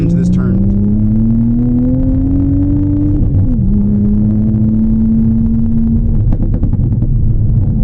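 A manual Toyota Supra fitted with Bilstein coilovers drives a twisty road, its engine droning loud and close with a steadily rising pitch, a brief shift dip, then a sustained pull, while someone talks over it.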